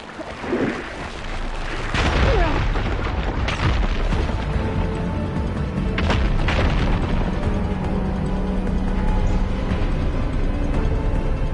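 A loud explosion bursts about two seconds in as fire gleam blasts away rubble in Horizon Forbidden West, followed by crumbling, rumbling debris and a couple of further sharp pops and cracks that fade into a low background bed.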